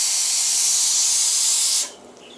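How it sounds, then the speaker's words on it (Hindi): A pressure cooker cooking whole moong beans lets out a loud, steady hiss of escaping steam for almost two seconds, then cuts off abruptly, leaving only faint background noise. "अबे कुकर ही 5 सीटी आएगी है"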